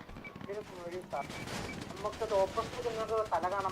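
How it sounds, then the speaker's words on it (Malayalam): Gunfire in a GTA game war match crackles in quick, sharp bursts under a voice that talks over nearly the whole stretch. "CM ചന്ദ്രു വെടിവെക്കുന്നുണ്ട്."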